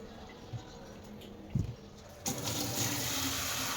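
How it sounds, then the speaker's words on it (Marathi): Water is poured onto melon seeds in a large, shallow pot, starting as a quiet trickle with a small knock and then turning into a steady, close splashing pour. "आता आपण या बियांमध्ये पाणी घालत आहोत"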